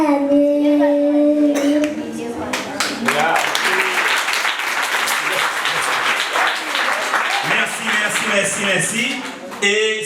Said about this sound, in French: Et vous l'avez applaudi, oui?